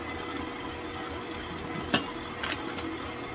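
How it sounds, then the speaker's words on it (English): A kitchen appliance runs its mix cycle while preparing Bananas Foster bites with cinnamon, a steady, quiet mechanical whir with a soft whirring texture and a few brief clicks near the end, with no talking. "It's gone through the mix cycle."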